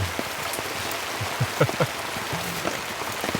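Heavy rain pours onto a tent at a campsite sitting in a small hollow, a steady close hiss of drops with a few louder taps scattered through it and no talk.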